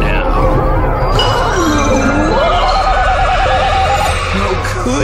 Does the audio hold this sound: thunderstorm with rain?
no